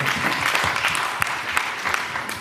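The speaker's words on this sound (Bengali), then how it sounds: "9 এর জন্য একটা করতালি হবে।" Audience applause at a marketing plan presentation, a short burst of dense clapping from a room of people, continuous and fairly loud throughout, no talk over it.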